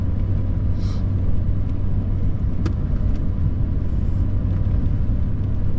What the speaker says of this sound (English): We're driving down to the town sand pile.